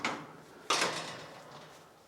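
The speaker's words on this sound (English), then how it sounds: "I'm going to open up her door here so she knows that she can get inside the barn if she wants to" A barn door swung open for a pig on a small farm: one sharp knock or clatter that rings out and fades slowly, heard close with no talking.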